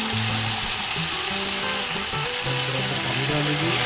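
Browned onions sizzling in a cooking pan as tomatoes and chilies are added for chicken pulao, a loud steady frying hiss with bubbling and stirring noises throughout.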